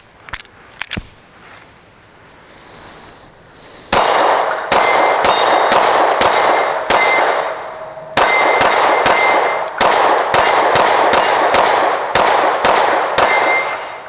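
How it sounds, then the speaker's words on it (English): Shots from a SIG P365 pistol ring off a steel dueling tree in a steady series, each a loud, sharp clang with a bright metallic ring, after a few softer sounds at the start. "We're gonna hit this dueling tree"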